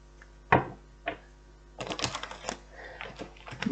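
A deck of cards being shuffled during a tarot reading, heard as a sharp riffle followed by a second shorter burst, then a longer run of dense, crackling card flutters close to the listener.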